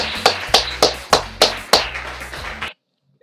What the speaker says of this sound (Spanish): Les pido un aplauso de bienvenida para nuestro compañero Martín Cruz.